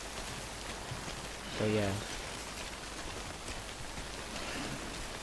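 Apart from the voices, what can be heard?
rain falling in Death Stranding video game (timefall)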